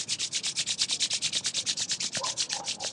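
Hands rub briskly together during a yoga session, about ten quick, even back-and-forth strokes per second, close and clear with no talking.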